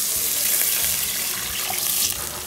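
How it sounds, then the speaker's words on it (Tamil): Water poured into a pan while cooking samba wheat rava, a steady broadband splashing rush lasting throughout, close and fairly loud with no talk. "அந்த தண்ணியை தான் நான் இப்போ இதில் போட்டிருக்கேன்."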